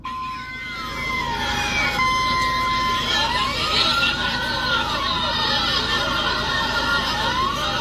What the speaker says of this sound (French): ça c'est l'arrivée des pompiers